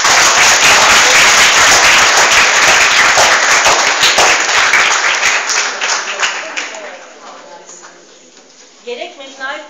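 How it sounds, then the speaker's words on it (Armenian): An audience at a school award ceremony claps loudly and steadily for about six seconds, then the applause thins out and dies away into near quiet, with a few faint scattered sounds at the end. "ծափահարենք նաև"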